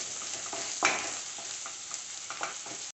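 Onions and curry leaves fry steadily in a pan with a close, bright sizzle, broken by a few soft stirring scrapes and one sharper clink near the start.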